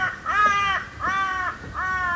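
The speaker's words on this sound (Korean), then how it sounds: "새소리 때문에 잠깐 멈췄습니다" Crows calling outdoors, three loud harsh caws in an even rhythm, close and clear with no talk over them.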